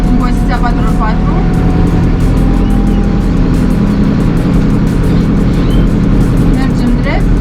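A JCB 3CX backhoe loader drives along in 4x4 gear, its engine giving a steady, loud, continuous mechanical drone and rumble throughout, with a voice talking over it.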